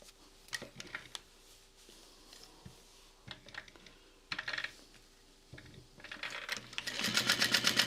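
A sewing machine stitches seams on a clutch wallet: scattered clicks and short runs, then a loud, fast, steady stitching burst near the end, close by.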